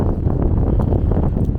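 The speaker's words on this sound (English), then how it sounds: "And the wind's dropping now. It's only gusting at 50." Strong storm wind gusting around a DX Commander antenna site, roaring loud and continuous as it buffets the microphone with a steady low rumble and no talking.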